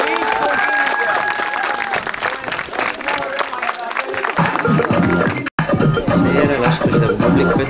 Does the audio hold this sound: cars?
no